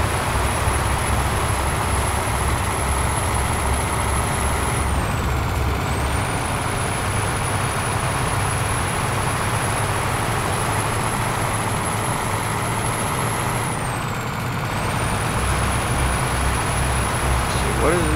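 A heavy truck engine drones steadily in American Truck Simulator, loud and continuous, with a high whine that dips briefly twice while a voice talks over it.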